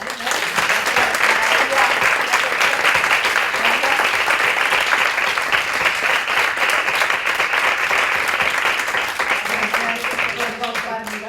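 A room of breakfast-event attendees applauds continuously and loudly, a dense even patter of many hands that holds for the whole stretch and thins slightly near the end.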